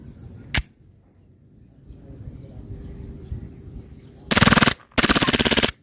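A WE Glock 26 Gen 4 airsoft pistol fires on full auto in two loud, rapid bursts near the end, each a dense rattle of shots, after a single sharp pop earlier and a quiet stretch.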